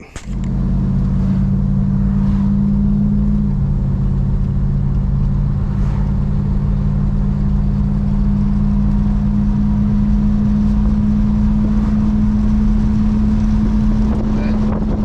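A 1967 Plymouth Belvedere II with a 290 axle drives under load, its engine droning loud and steady at a low pitch over constant road and wind rumble for the whole stretch.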